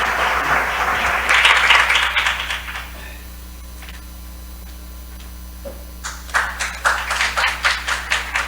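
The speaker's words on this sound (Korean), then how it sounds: "고문현 회장님께서 앞으로 나오실 때 큰 박수 부탁드리겠습니다" Audience applause rises for the president of the Korean ESG Society at a world ESG forum, a dense clapping wash for about three seconds that fades, then returns as scattered rhythmic claps near the end.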